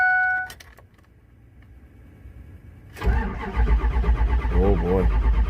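A Ford 6.0 Powerstroke diesel with a non-working glow plug module cranks slowly in a cold start, a brief chime followed by a labored, loud starter churn with uneven low pulses, close by.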